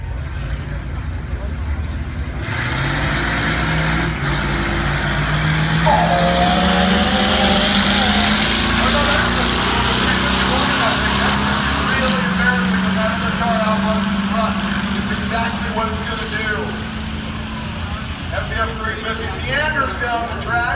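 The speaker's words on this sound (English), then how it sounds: "He's going to run his 6-cylinder all the way down the track while you guys wait for him." A Ford F350 truck with a six-cylinder engine runs the length of a drag strip at a budget hooptie race, its engine droning steadily with a slowly rising pitch over about twenty seconds, joined by background crowd and announcer chatter.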